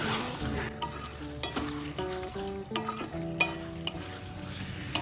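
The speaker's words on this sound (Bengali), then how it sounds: "মশলার সাথে পুঁই শাকটা কষিয়ে নেব।" Boiled Malabar spinach and potato with spices are sautéed in a pan, a soft sizzle broken by repeated scraping strokes of a spatula, close and fairly quiet, with no talk.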